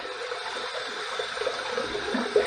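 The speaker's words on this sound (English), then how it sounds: "I'm going to let some water out of that sink there while I keep this up under some hot water so that my sink's not overflowing" Water runs steadily from a bathroom sink tap in a continuous soft hiss and gush, close and moderately quiet, with no voices.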